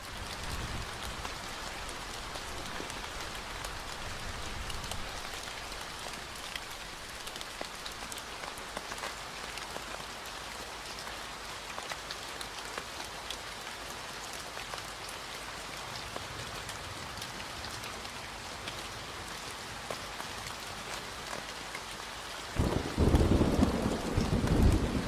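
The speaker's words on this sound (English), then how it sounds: "Have some rain." Steady rain and thunder from the video game Trails in the Sky hiss continuously, with a louder rumbling swell of thunder near the end.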